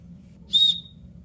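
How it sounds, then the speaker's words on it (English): The survival whistle on a Leatherman Signal multitool gives one short, shrill, piercing blast lasting about a quarter second, loud and close against a quiet background. "and so whistle"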